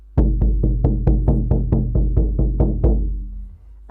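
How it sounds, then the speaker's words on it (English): Steady, fast drumming on a single deep frame drum for a shamanic journey, about three even beats per second, loud and close with resonant booming low tones and no voices. "the drumming for the journey when I'm not talking will sound like this"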